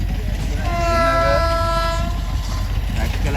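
A train passes near Anuradhapura on Poson Day with a rumbling, clattering roar, while a sustained horn tone swells and fades in the middle.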